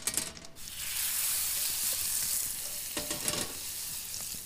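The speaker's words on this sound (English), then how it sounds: "I want to crisp up some of this reindeer moss in the brown butter." Reindeer moss crisps in brown butter in a pan over a wilderness cooking fire, giving a loud, steady sizzle with a few stirring scrapes and clicks mixed in.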